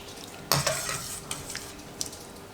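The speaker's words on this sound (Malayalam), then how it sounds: "നമുക്കിതൊരു സ്ട്രെയിനർ വെച്ചിട്ട് കോരിയെടുക്കാം." Cauliflower scooped out of boiling water with a strainer, one sharp metallic clank followed by a few lighter clinks and soft watery stirring sounds, close and fairly quiet, with no voices.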